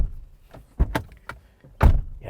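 A 2022 Subaru Forester SUV door swung shut with a solid thunk, followed by a second firmer slam, both close and loud against a quiet background.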